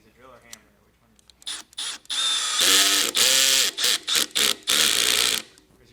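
A Milwaukee M12 cordless drill/driver runs in drill mode with short bursts and then a sustained high whine, starting and stopping several times, up close with some talking nearby.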